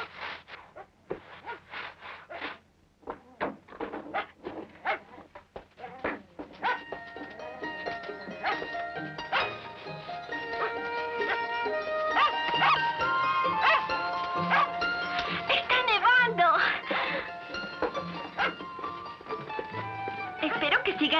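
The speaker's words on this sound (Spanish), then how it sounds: "¿Por qué estará ladrando ya?" A dog barks in a quick run of sharp, repeated bursts early on, somewhere around a snowy frontier homestead; afterward people talk over steady musical tones while the barking fades from prominence.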